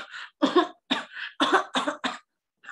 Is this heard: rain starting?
no